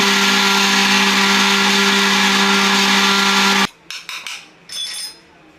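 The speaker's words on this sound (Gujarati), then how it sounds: "આને આપણે પાછું છે ને નાના મિક્સરના ખાનામાં પીસી લેવું" An electric mixer grinder with a small jar grinds raw mango pieces into paste. Its loud, steady motor whine runs for over three seconds, then stops, followed by a few light clatters.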